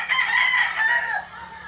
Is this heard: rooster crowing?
yes